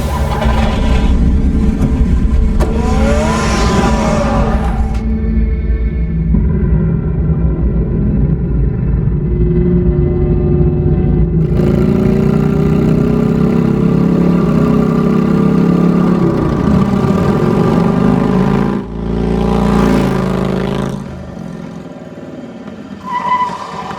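Batman's car engine in the Batman: The Telltale Series game, a loud mid-pitched rumble that idles, then revs up and surges, with brief whooshing bursts and a rise near the end.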